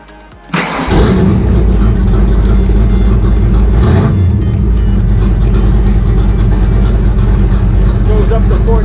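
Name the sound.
Factory Five Racing Shelby Cobra replica engine starting and idling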